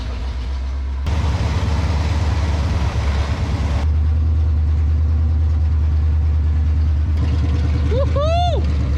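A 1967 Pontiac Firebird engine, recently revived after sitting abandoned, runs as a loud, rough mid-pitched roar that surges in stages, with the rear tires spinning and a short squeal near the end.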